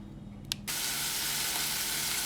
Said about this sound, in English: our saucepan is making tons of noise. We've got those vegetables that are starting to stir fry